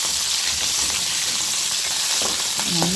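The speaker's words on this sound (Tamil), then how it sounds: "பாருங்கள், கத்திரிக்காய் நல்லா வதங்கிட்டு இருக்கு." Eggplant pieces frying in oil in a pan for a spiced gravy, with a steady, dense sizzle throughout and a few brief clinks of a utensil near the end.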